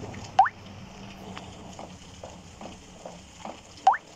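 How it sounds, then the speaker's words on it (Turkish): Water drips from a roof in a horror video game: sparse, hollow plinks at an irregular rhythm over a quiet ambient background, with two louder, closer drops standing out. "Çatıdan Damla damlıyor"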